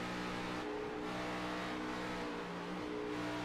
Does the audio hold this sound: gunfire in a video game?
no